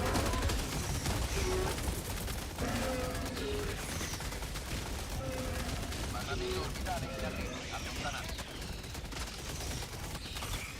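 Sentry turrets fire in Helldivers in steady, dense bursts of gunfire that run through the whole stretch, with a player talking over the shooting.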